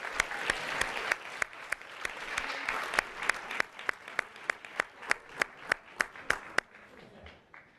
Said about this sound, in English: Can we have another great big hand of applause for all these winners?